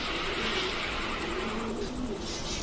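High-flyer pigeons coo softly amid steady background noise, a low rolling call repeating a few times, with no clear voice.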